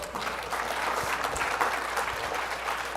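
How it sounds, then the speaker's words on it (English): An audience claps for an interview guest, a brief burst of dense, steady applause at moderate distance with no speech on top. "A round of applause, please."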